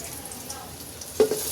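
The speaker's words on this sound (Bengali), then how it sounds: "এখন আমি পেঁয়াজটা দিচ্ছি।" Onion sizzles in hot oil for vegetable khichuri, a soft frying crackle that flares into a louder sputter and stir near the end of the short stretch, with no talking.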